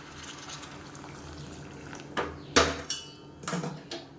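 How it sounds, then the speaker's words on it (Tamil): Hot water poured into a pan of simmering kulambu curry, with a few splashing, sloshing bursts in the second half over a quiet kitchen background and no talking. "இப்போ இந்த ஸ்டேஜில் தண்ணி சேர்த்துக்கலாம் நல்லா சுடுதண்ணியாக தண்ணியாக சேர்த்துக்கோங்க"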